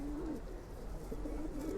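Deep, bubbling coos from a domestic male pigeon with red-pied markings, heard near and fairly soft in two brief phrases over a quiet hum.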